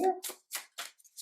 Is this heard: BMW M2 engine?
no